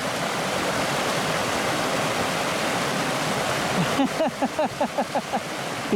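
Steady rushing water from a shallow river flows throughout, a broad continuous wash, joined near the end by a run of short rhythmic thumps.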